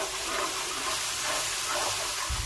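A pan of stew sauce seasoned with five-spice stew powder, soy sauce and sugar simmers with a steady, close, even hiss and soft bubbling, unbroken and without voices.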